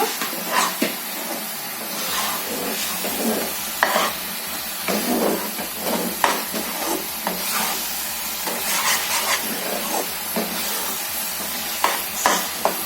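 Beetroot and grated coconut mixture stirred in a pan for beetroot burfi, a steady close scraping and sizzling with repeated spoon strokes throughout.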